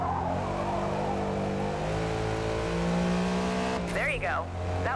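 Racing car in Forza Motorsport (2023), engine droning and shifting pitch through a corner before revving hard, with a brief tyre squeal near the end, loud and close over background game sound.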